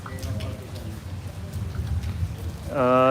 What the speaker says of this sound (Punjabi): ਪਰ ਹੁਣ ਮੀਂਹ ਬਾਲਾ ਪਈ ਜਾਂਦਾਗਾ